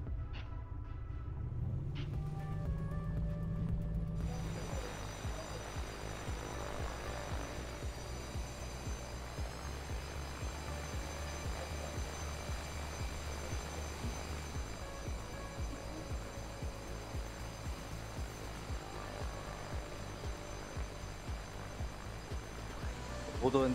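Piper Comanche single-engine propeller aircraft engine in a flight simulator, a steady droning hum at low level with a shift in tone partway through, continuing after landing.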